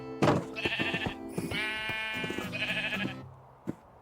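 Sheep bleating in the Minecraft video game, several wavering bleats in quick succession heard clearly with no talk over them.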